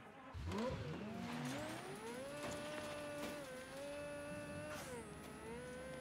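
A car engine in the Mafia 3 video game revs and idles, a rising and falling tonal whine with sliding harmonics that holds a warm steady drone, fairly quiet, with no talk over it.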